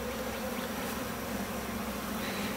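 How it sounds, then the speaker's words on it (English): Honeybees buzz around an opened original hive during a split to make a resource colony, a dense, steady drone of many insects close by with no pauses. "you can see there's still a lot of bees in this"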